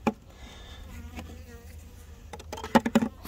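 A honey bee swarm of three to four pounds, the first of the spring, hums in a steady, low, moderately faint buzz, with a few sharp knocks and clatters near the end.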